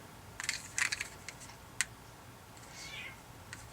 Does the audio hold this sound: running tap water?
no